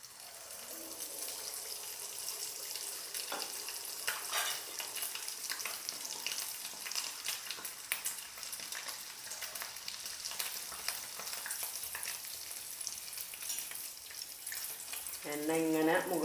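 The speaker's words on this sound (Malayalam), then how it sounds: "ഇനി ചൂടായ എണ്ണയിലേക്ക് കുറേശ്ശെ ഒഴിച്ച് നെയ്യപ്പം ചുട്ടെടുക്കാം." Neyyappam batter sizzles and crackles as it fries in hot oil, a steady dense frying hiss throughout with occasional louder pops and a brief clatter near the end.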